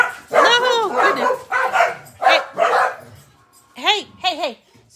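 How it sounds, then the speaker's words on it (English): A dog barks and yips several times outside an open door as someone walks it past, sharp close bursts near the end, mixed with someone talking. "Somebody's walking their dog, and I have the door open."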